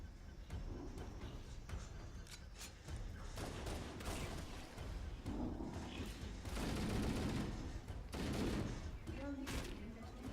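Rapid bursts of gunfire and weapon shots in the shooter game Halo: CE Anniversary, crackling volleys that come in dense clusters throughout, with a person talking over the firefight.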